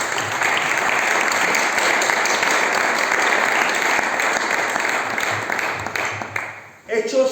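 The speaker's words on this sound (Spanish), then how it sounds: "Fuerte el aplauso para este ser tan divino." A church audience claps loudly in a dense, sustained round of applause lasting several seconds, tapering off near the end as a voice starts to speak.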